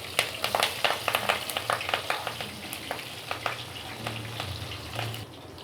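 Oil sizzles and crackles steadily as spices, curry leaves, green chillies, ginger and garlic fry, with sharp pops scattered throughout and a faint stirring scrape underneath.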